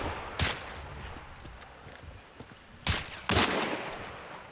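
Three gunshots from the game Hunt: Showdown, one mid-range report early on and two heavy blasts close together near the end, with quiet ambient rumble and faint movement between them.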